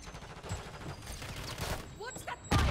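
Gunfire in the Modern Warfare III video game crackles in quick bursts over busy game noise, ending with a louder, closer burst.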